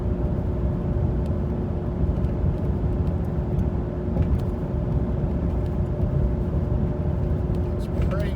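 A car cruises at about 100 km/h and roughly 1900 RPM on an uneven road, a loud steady engine drone and road rumble from inside the cabin, unbroken throughout.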